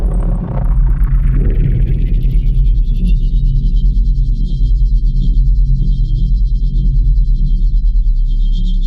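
A synthesized wormhole-traversal effect made in Phase Plant with compression, distortion, EQ, reverb and a limiter: a deep, loud droning rumble under a rising, sweeping whoosh that settles into a sustained high whistling tone.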